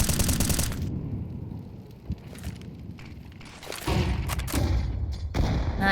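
Grenade blast and scattered gunfire during a Counter-Strike match on the Anubis map, bursts of shots and heavy thuds breaking through quieter gaps in a fast-paced exchange.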